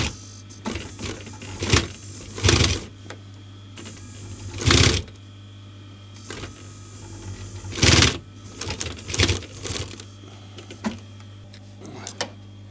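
A domestic sewing machine punches through thick layers of leather in labored bursts of rapid stitching, separated by pauses and clunks, over a steady low motor hum, close and loud.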